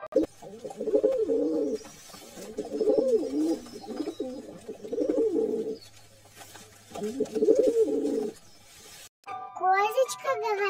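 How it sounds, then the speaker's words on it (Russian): Pigeon cooing in repeated soft, throaty phrases, three rounded bursts separated by short pauses, close and clear, followed by a brief higher chirpy sound at the end. "Голубь говорит ур."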